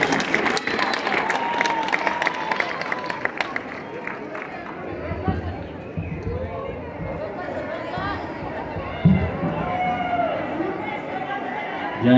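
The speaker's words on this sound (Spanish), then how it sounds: "Que se escuche el aplauso, señores." A crowd claps at the Lienzo Charro Adolfo López Mateos in Ciudad Juárez, strongest in the opening seconds, then thins into murmuring chatter and scattered voices from the stands.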